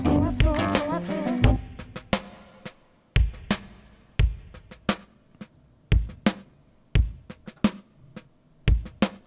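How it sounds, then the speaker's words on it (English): A dry drum kit with no effects plays a steady groove, sharp kick and snare hits landing at regular intervals with crisp cymbal and hi-hat strikes, clear and close. A busier fill with ringing tones opens the passage before the beat settles. "normal drums would sound like this"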